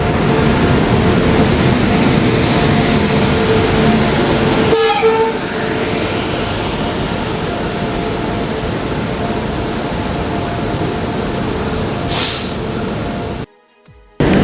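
A train at a station rumbles loudly and continuously. A horn blast sounds partway through over the steady rolling noise, and the sound drops out abruptly near the end.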